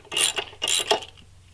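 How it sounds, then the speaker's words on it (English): A ratchet loosens bolts in short, loud, close bursts of metallic clicking, two main runs of rapid pawl clatter followed by a brief quieter tail. "to watch me loosen up bolts."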